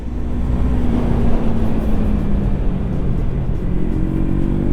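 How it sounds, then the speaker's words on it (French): A 2025 Yamaha MT-03 motorcycle idling and revving lightly, its exhaust giving a steady, throaty rumble with a rising and falling pitch, loud and close. "Petite sonorité sympa là. L'échappement est pas beau, mais il est jamais malade."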